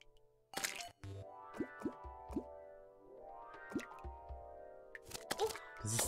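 Water in the video game Terraria gives soft drips, plops and squishy watery blips in a quiet, game-like sequence with tonal background sounds, no talking.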